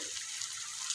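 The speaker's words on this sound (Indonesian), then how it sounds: "aku masukkan air perasan asam jawa sedikit saja dulu" Tamarind juice being poured into a cooking pot for spicy-sweet chicken feet, a steady thin trickling splash heard up close and alone for the whole moment.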